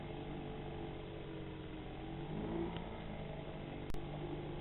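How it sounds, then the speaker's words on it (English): The engine of a Leisure 17 sailboat drones steadily on a flat-calm crossing, a continuous mid-level hum with a slight swell partway through and a brief click near the end. "coming over today with just the engine on"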